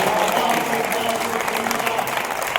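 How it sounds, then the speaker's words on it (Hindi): An audience at a Hindi kavi sammelan poetry gathering for Mahaveer Jayanti claps in a loud, continuous wash of applause, with a faint tonal hum from the sound system underneath. "तालियां थोड़ी बड़ी करो, आसमान भरता है"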